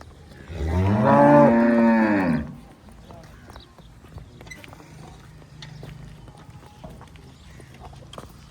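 A dairy cow on a farm, freshly calved ten to fifteen days ago, gives one long, loud moo up close, then the pen goes quiet with faint shuffling and low background noise.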